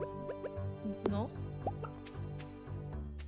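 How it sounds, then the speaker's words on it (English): Cow being milked in a Stardew Valley-style video game, a run of bubbly dripping and gurgling liquid plops with game music and voices chatting over it. "No, that was me milking the cow."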